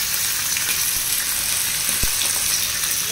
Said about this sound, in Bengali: মাছ ভাজার গন্ধ পাচ্ছে। কত বড় পমফ্রেট মাছ, একটা কড়াই জুড়েই হয়ে গেছে।